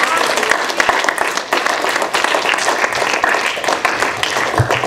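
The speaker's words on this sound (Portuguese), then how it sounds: "Dá palmas para Jesus." A church congregation clapping and applauding together at a Portuguese-language service in Dallas, Texas, a dense, loud, continuous burst of many hands lasting a few seconds with voices mixed in.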